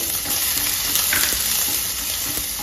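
Cumin seeds, black peppercorns and chopped ginger frying in hot oil, a steady close broadband sizzle that holds even throughout with a few faint stirring scrapes and no voices.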